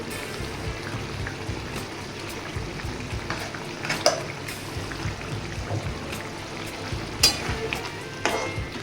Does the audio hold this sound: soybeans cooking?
yes